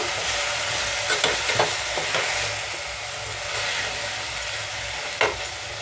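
A spoon stirs fenugreek leaf dal in a pan, with scraping strokes and occasional clinks over a continuous bubbling sizzle, close and moderately loud.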